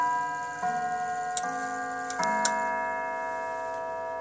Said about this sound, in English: At quarter past, the clock does the first part of the tune.